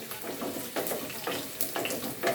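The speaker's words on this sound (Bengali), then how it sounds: "মরিচটাকে এখন আমি হালকা একটু ভেজে নিব" Dried red chillies, torn by hand, frying lightly in a pan for sajna dal, giving a steady crackling sizzle with a few louder spitting bursts, close and alone.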